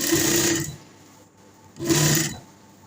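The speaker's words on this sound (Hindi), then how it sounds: "यहाँ पे हमने इसकी सिलाई लगानी है।" A sewing machine stitches along a dress neckline in two short bursts of rapid mechanical whirring, close and fairly loud, separated by a quiet pause.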